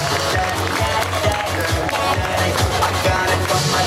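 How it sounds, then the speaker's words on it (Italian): Audience applause at an outdoor summer fashion and beauty show in Gabicce Mare, a dense steady clapping crowd under music with a pulsing low beat throughout. "Ragazzi, un bel applauso!"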